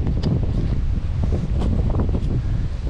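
Steady wind gusting across a lake while kayaking from an Old Town Topwater PDL 120, a constant rushing buffet on the microphone with faint water lapping, and no voices.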